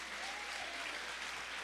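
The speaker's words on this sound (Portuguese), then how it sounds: "Quem pode aplaudir o Senhor?" A congregation claps during an Easter cantata service in church, a brief, faint, steady patter of applause heard from a distance throughout.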